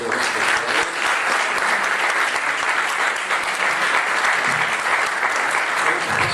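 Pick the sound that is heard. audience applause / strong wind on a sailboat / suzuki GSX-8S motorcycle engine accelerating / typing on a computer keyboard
audience applause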